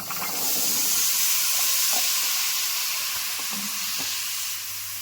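Tender cauliflower stalks hit hot spice paste in a pan and break into loud, steady sizzling with a bright hiss, stirred a few times with soft knocks close by.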